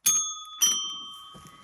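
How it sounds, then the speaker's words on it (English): A small bell with a clear metallic tone is struck twice in quick succession, close and bright, each ring sustaining and fading slowly, with a faint rustle near the end. "we get to ring the bell again"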